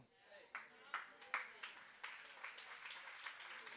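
An audience at a church sermon claps, scattered sharp claps building into a ragged round of applause, moderately close and fairly faint.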